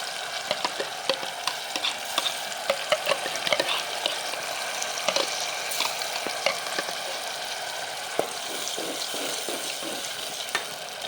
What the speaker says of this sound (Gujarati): તેલમાં વ્યવસ્થિત આને આપણે ચડવા દેવાનું છે ડુંગળી ને ટમેટા વ્યવસ્થિત ચડી જવા જોઈએ